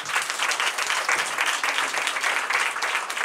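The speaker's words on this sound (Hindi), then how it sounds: "सब लोग जोर से ताली बजाएंगे" An audience at a Christian worship service claps loudly together, a dense steady wash of applause throughout with no talk over it.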